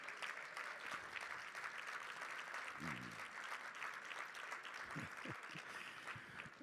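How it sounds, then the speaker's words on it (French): An audience at a Montreal book fair applauds poets in a cabaret, a steady wash of many hands clapping for several seconds, fairly distant, with a few brief voices and low thumps under it. "Allons les applaudir encore une fois"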